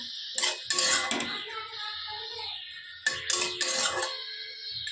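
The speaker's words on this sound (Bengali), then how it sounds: "এই যে একটু নেড়ে নেবো" A metal utensil stirs sugar into spinach ghonto in a pan, giving two close bursts of scraping, clattering stirring with a quieter pause between them and no talking.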